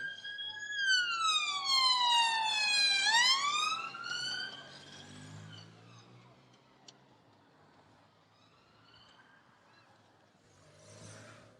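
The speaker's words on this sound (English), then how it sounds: "You can hear the sirens of the lead police vehicles that are making their way through now" Police vehicle sirens wail with rising and falling pitch, sweeping loudly for a few seconds during a Tour of Britain cycling race, then fading into a low background rumble, with a brief swell near the end.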